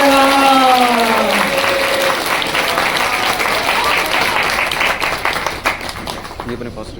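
Audience applause for a group of children at an ashram gathering, a dense wash of clapping running throughout, with a voice speaking over the opening seconds.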